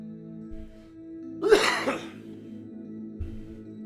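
A single sneeze bursts out at a tabletop roleplaying game session, a sharp broadband burst partway through, with quiet room tone and faint background noise on either side.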